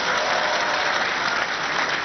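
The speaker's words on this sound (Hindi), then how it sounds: "इसके लिए जोरदार उसके लिए ताली बजाइए" A school audience at a Swami Ramdev event in Kathmandu claps loudly for a child, dense steady applause that fills the whole stretch with no pauses.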